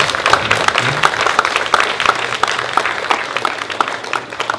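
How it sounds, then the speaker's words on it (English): A church wedding crowd applauds the newlyweds, dense close clapping that stays steady for several seconds with faint voices mixed in. "Please give him a big applause."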